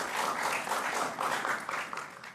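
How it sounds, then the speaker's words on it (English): Audience applause at a live school quiz competition: a steady wash of many hands clapping at moderate loudness, dense and continuous with slight swells, heard from a middle distance for a couple of seconds. "A round of applause for them"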